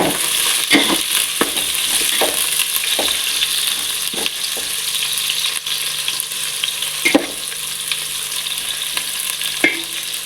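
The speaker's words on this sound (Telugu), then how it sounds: "తగినంత ఎర్రగడ్డలు అయితే వేసేసుకున్నాం. ఆయిల్ అయితే వేడెక్కింది." Onions frying in hot oil for chicken biryani, a loud continuous sizzle up close with repeated sharp scrapes and clinks of a spoon stirring the pan, no voices.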